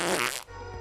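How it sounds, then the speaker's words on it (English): Brief comic fart sound effect: a loud, raspy, blaring burst that drops into a lower, sputtering buzz and fades, all within about a second. "The fart sound at the end is important."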